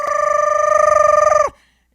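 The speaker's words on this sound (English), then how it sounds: "There's always this phone that rings and rings." A store telephone trills with a rapid warbling electronic tone, loud and close. The tone holds steadily for about a second and a half, then cuts off into silence.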